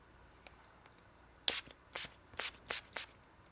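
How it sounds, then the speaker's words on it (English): Five short bursts of NYX Dewy Finish makeup setting spray misted in quick succession at close range, each a crisp hiss with brief pauses between, in a quiet room with no talking. "I like to go in with a setting spray. So this is the NYX Dewy Finish."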